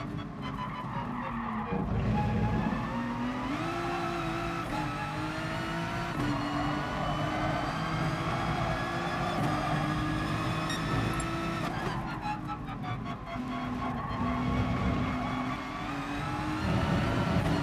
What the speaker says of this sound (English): That Lamborghini is a monster down the straights.